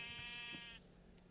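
A single sheep in Minecraft gives one drawn-out bleat, fairly near but soft, before it cuts off into quiet ambience.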